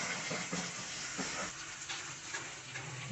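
Capsicum chicken masala sizzling in a pan, a steady close hiss of frying with faint crackles running throughout, no voices.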